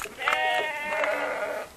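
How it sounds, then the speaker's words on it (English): Sheep bleating in a Cotswold village field in England: one long, wavering, nasal bleat up close, loud and clear, lasting under two seconds with no talk over it. "Many, many sheep. And they've all got something to say."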